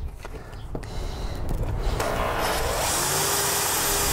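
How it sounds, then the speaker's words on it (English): A power drill whines and grinds steadily as it drills out a stuck metal pin in a lens adapter, its pitch rising and the noise growing louder as the bit bites in, close by with no talking. "I'm gonna try to drill that out a little bit more."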